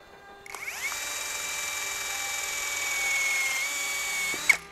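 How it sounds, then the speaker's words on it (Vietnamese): A power drill bores through a thin pine wood board, a steady high whine that spins up, holds for several seconds under load and cuts off with a brief clunk at the end. No voices. "trước tiên mình sẽ khoan trên tấm gỗ thông mỏng, sau đó là khoan tấm gỗ dội dày nha các bạn"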